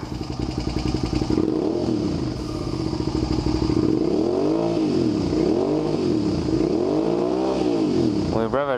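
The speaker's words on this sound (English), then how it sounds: "Let's see when we rev it up." A motorcycle engine being revved during an electrical fault check for a voltage drop, the pitch rising and falling in several repeated swells close by, with clattering mechanical noise.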